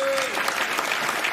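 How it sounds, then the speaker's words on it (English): An audience at a stand-up comedy show breaks into a short burst of hand clapping, scattered individual claps over a lively room, with a faint voice audible at the start. "Clap hands if you're in your 30s."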